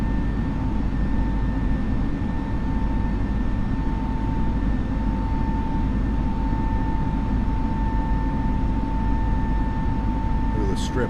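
Airbus A320 (FBW A32NX) engines hold climb thrust in Microsoft Flight Simulator, a steady loud jet roar with a low rumble and faint tonal whine that stays constant throughout.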